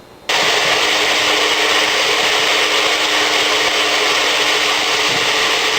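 A loud blender kicks on abruptly and runs with a continuous, harsh whirring roar as it grinds acorns into flour, steady and close for several seconds with no talking.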